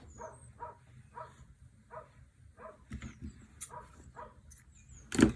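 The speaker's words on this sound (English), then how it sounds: "the dog next door is barking" A dog barks in short bursts several times, muffled and somewhat distant, with a louder closer thump near the end.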